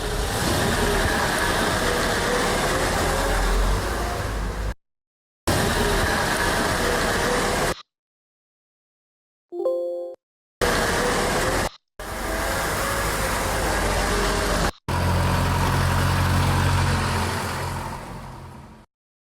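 Car-passing sound effects play as a series of separate engine pass-bys, each a loud rising and falling rush of motor and road noise, broken by short silences and a brief tonal blip.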